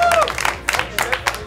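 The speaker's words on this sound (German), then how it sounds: "Applaus hier!" Crowd applauding at a charity donation day, scattered claps and cheering in short bursts, with a voice speaking briefly over the start.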